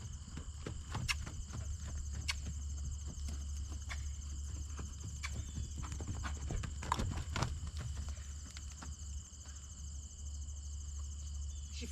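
A horse cross-canters, her hooves drumming in an uneven, rolling rhythm at moderate distance over a steady background of crickets and outdoor ambience.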